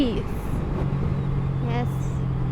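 Road traffic around a sportbike on a commute: a steady engine rumble, tonal whines from vehicles shifting nearby, and a passing hiss, with a voice briefly audible over it.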